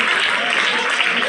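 Audience applause fills a school event celebrating Telugu language day, a dense, steady clapping from a crowd with no pauses through the short stretch.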